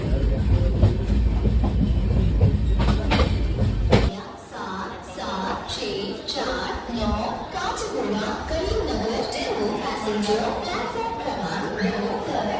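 A passenger train travels between Sambhaji Nagar and Hyderabad, its steady rumble and rhythmic wheel clatter running throughout. The sound is loud and continuous, a deep roar at first that thins after a few seconds, while passengers chatter faintly in the coach.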